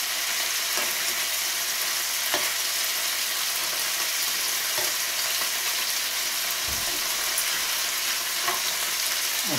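Beef sautéing in a pan for a beef sauté with chocolate, sizzling steadily and close throughout, with a few scraping clicks and one short knock as the meat is turned.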